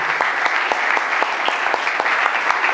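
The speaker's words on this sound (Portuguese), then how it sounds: "Aplauda Jesus." A church congregation claps steadily and enthusiastically, a dense, continuous patter of many hands filling the room.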